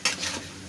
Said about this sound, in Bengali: সিরকা দিয়ে একটু নাড়াচাড়া করছি